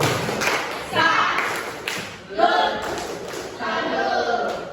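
A class of students performing the "tepuk salut" clapping routine, with bursts of rhythmic claps and thumps rising and falling over about five seconds, mixed with children's voices.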